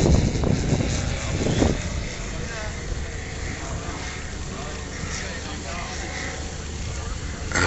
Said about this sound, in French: écoutez simplement le son de cet avion,